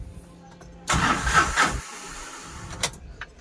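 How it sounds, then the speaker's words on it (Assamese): A Tata Ace Mega XL mini truck's engine cranks and catches, a short loud starter whirr settling into a steady idle, close by with no talk. "গতিকে এবাৰ ষ্টাৰ্ট দি চাই লওঁ।"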